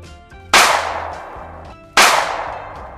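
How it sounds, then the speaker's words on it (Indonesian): Two sharp, loud pops about a second and a half apart, each with a bright crack and quick decay, from a toy gun firing rubber bullets. "lihat ada tembakan peluru karet"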